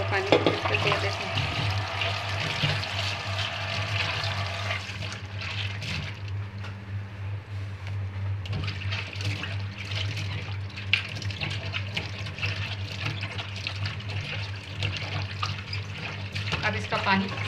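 Tap water runs steadily into a sink while bitter gourd is rinsed and squeezed for a mutton and bitter gourd curry, a continuous close splashing with a low hum underneath.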